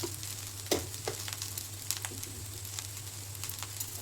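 Fried rice ingredients, with sugar mixed in, frying together in a pan as a steady soft sizzle, with a few sharper clinks or stirs, over a low constant hum.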